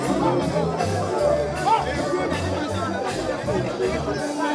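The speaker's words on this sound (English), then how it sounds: "It's an agitated crowd here" An agitated crowd of protesters at a demonstration about hotels, a close, continuous babble of many voices with scattered shouts, under a reporter's nearby voice.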